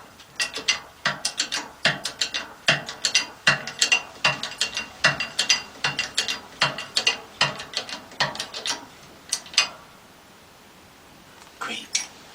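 Press tool forcing a ball joint into a truck spindle, giving a steady series of sharp ratcheting clicks in a regular rhythm for about ten seconds, close by, before a pause and a few final clicks.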